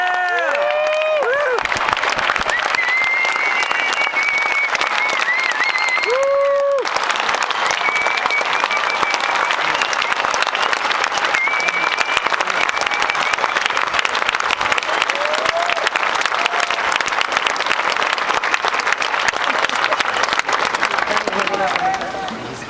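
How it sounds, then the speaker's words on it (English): Sustained crowd applause with cheering and whoops at the Tahoe Summit on the shores of Lake Tahoe, loud and continuous for over twenty seconds, with a voice speaking over it near the start. "Give him a big round of applause."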